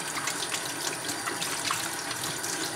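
Tap water running steadily into a sink while toys are washed, a continuous close splashing gush with no talk.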